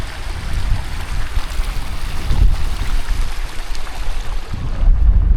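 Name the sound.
wind blowing, breezy outdoors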